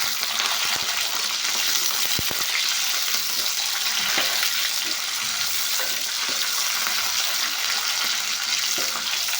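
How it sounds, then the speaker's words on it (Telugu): Onions and tomatoes frying in a clay pot for fish curry, a loud, dense sizzle with scattered clicks and scrapes of stirring throughout. "సో ఈ మొత్తం కూడా కొంచెం రంగు మారేంత వరకు ఇలాగే వేయించుకుందాం."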